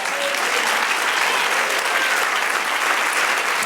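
A church congregation applauds together in steady, dense clapping that holds loud and even throughout, a continuous wash of many hands with no voices standing out.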